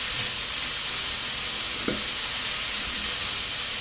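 Food fries in a pan on high heat with a steady, close sizzle and hiss that runs throughout, plus one brief stirring clink.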